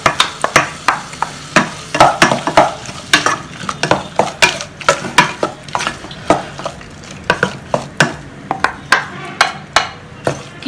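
Ground coconut paste being mixed into cucumber kichadi, a spoon knocking the vessel in quick, fairly regular clacks over a soft wet stirring sound, close and clear with no voices.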